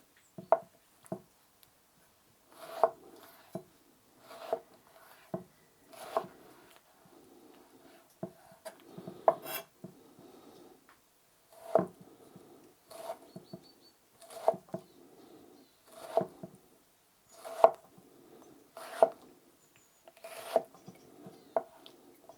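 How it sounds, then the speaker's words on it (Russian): Tefal EverSharp kitchen knife dicing a tomato into cubes, close and fairly quiet: bursts of short chopping taps on a board, grouped in quick pairs and runs, with brief pauses between them. "попробую порезать такими, ну, как бы кубиками"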